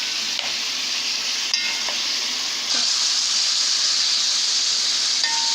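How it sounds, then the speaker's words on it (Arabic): Meat for pot-style kebab frying in a pot, a loud continuous sizzle with occasional light stirring clinks, close up and steady throughout. "اقلب في اللحمه كده عشان كلها تبقى لون واحد"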